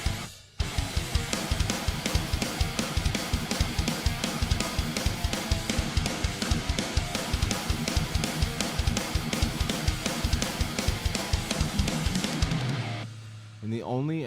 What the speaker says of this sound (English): I just did a quick little demo, 2 guitars.